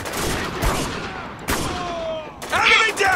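Gunfire in the shooter game Spec Ops: The Line, with several sharp shot bursts spread across a few seconds over a busy battle background, with talk mixed in.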